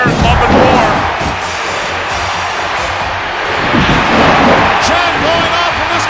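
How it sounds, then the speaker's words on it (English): A capacity WWE wrestling crowd at the Royal Rumble chants steadily, a loud, dense arena roar that stays strong throughout, with commentary voices underneath. "Chant going off from this capacity crowd"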